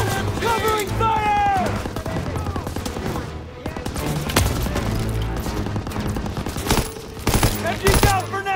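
Machine-gun covering fire in the WWII shooter Call of Duty WWII, sustained loud bursts of automatic fire mixed with other gunshots and battle noise, with voices shouting over the fighting.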